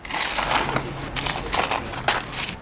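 Coins, including old silver ones, dropping and clinking together in a rapid series of sharp, bright metallic clinks close by, with no talk.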